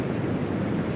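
Waves wash in on a shore with a steady, dense rush of water mixed with wind buffeting the microphone, brief and continuous with no voices.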